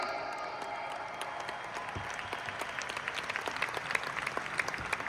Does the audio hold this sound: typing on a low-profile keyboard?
no